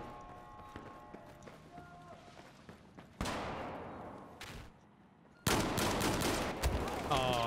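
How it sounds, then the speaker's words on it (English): High explosive shotgun fire in Battlefield 4 on hardcore mode: loud blasts and bursts of in-game gunfire with running footsteps and battle noise, a voice faintly talking underneath. "the high explosive shotgun."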